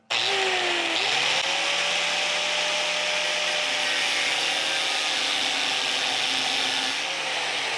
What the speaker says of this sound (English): Not putting any pressure, just letting the weight of the tool do the cutting.